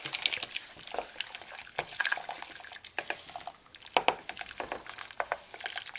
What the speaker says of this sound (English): chocolate and butter. I'm going to stir it up.